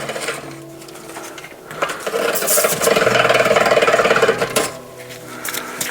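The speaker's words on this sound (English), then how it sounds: "I'm just cleaning off some of the gunk left over from the chain here." Rough scrubbing and rubbing on a single-speed Lemond bike, cleaning leftover chain gunk with Dawn Power Wash; irregular close strokes that swell into a sustained burst of fast friction, then ease off.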